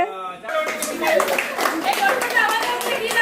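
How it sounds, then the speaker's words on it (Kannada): An audience applauds at an award ceremony. The clapping is dense and sustained and stays close and fairly loud, with voices and chatter running beneath it. "ಕ್ಲಾಪ್ ಮಾಡಿ. ಚಪ್ಪಾಳೆ."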